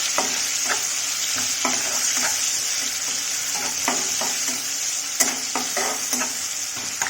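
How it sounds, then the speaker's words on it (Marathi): Tomatoes cooking in a pan over a low flame give a continuous close sizzle, broken by repeated ladle stirs and clinks. No voices. "थोडंसं मंद आचेवर टोमॅटोला शिजवून घेणार आहोत"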